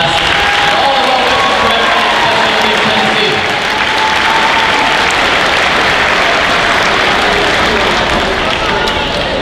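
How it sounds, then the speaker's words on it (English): Loud, sustained applause from a large audience at the opening ceremonies of the 2022 State Summer Games, a dense wash of clapping with crowd noise and some voices mixed in, running steadily for the whole stretch. "Let's give them one last round of applause."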